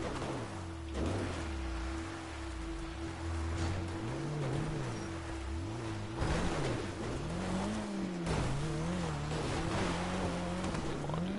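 Powerful car of about 900 horsepower straining up a hill in Grand Theft Auto 5, its engine droning with a wavering, rising and falling pitch over a constant hiss and rattle, fairly quiet and continuous.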